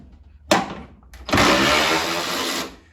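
A Harbor Freight Hercules or Milwaukee 1/4 inch drive electric ratchet whirs close up: a short burst, a pause, then a longer loud buzzing run of over a second that fades out.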